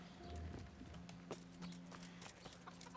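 Horse hooves clip-clop at a steady trotting pace in the medieval video game Kingdom Come: Deliverance, faint and fairly close over quiet game ambience and soft tonal hums, with no speech.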